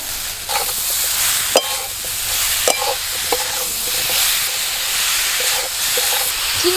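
Powdered sugar stirred into amla pickle in a hot pan, a steady hiss and sizzle broken by several sharp spoon knocks against the pan.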